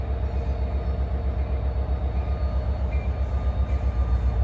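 A New Jersey Transit train hauled by an EMD diesel arrives at Ridgewood station, heard as a loud, steady low rumble of engine and rolling cars with a rhythmic pulse, close by and unbroken.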